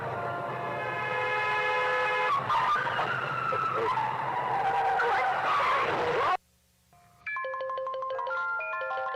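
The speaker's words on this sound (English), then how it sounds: "You crashed the car, you killed them." Tires screech in a loud, sustained skid as a car loses control in a horror video game, with tonal game music layered over it, then a brief cutoff into silence before a plinking melodic sting follows.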